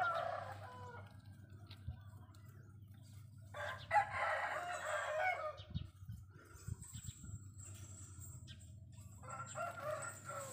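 A rooster crows in the late morning, a couple of drawn-out calls mixed with clucking fowl, heard at a modest distance over a low steady hum and some rustling.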